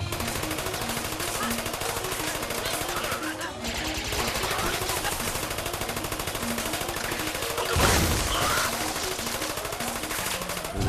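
Turret gunfire in the video game Trials of Blood Dragon, rapid, rhythmic machine-gun bursts firing steadily for the whole stretch, loud and continuous over game music, with one heavier impact partway through.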